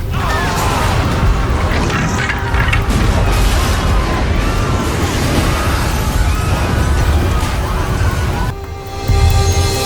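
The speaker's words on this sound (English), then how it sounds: "There is a missile flying." Cartoon missile sound effect: a loud, dense rumbling roar of flight and explosion that sustains for most of the stretch, dipping briefly before a final burst.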